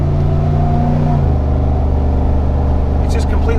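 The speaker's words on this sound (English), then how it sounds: "you can see how easy it is getting on the freeway with an L83" Jeep Wrangler with an LT 5.3 L83 V8 and 10-speed transmission accelerating onto a freeway, a steady low engine drone with a shifting tone partway through under constant road and wind noise.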